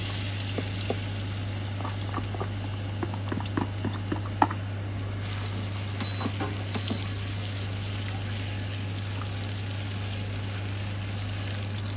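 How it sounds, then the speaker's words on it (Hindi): Chopped onions dropped into about three-quarters of a cup of hot oil for restaurant-style chicken fried rice give a steady, close sizzle, sprinkled with scattered crackles and pops that thicken midway and stay busy throughout. "तेल हमारा गरम हो गया। अब हम इसमें सबसे पहले प्याज शामिल कर रहे हैं।"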